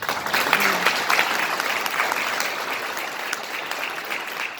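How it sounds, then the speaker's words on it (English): An audience at a health care system community meeting applauds therapy staff, a dense, sustained wash of clapping from many hands that stays loud and then tapers slightly toward the end. "so a round of applause for them."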